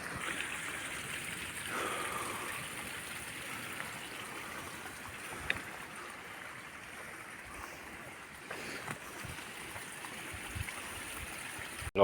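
A small waterfall spills along a garden stream in the Aurès, giving a steady, continuous rush of water at moderate level, close by and without voices throughout.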